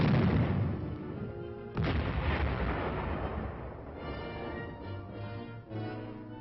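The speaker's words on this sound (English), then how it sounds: "105mm howitzer provides support from close range for the armor team." A 105mm howitzer firing directly at close range in support of an armor team gives heavy, rumbling booms, with a strong blast near the start and another sharp burst partway through over continuous low roar, and no voices.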